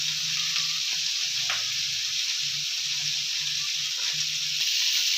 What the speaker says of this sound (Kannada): ಬಟಾಣಿ ಕ್ಯಾರೆಟ್ ಅಂತ ಫ್ರೈ ಮಾಡ್ಕೋಬೇಕು